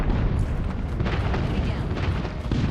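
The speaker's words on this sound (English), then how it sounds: "Friendly airstrike incoming." Airstrike explosions rumble in the Call of Duty Mobile video game, a dense continuous booming barrage with heavy low-end roar, loud and sustained with game voices mixed in.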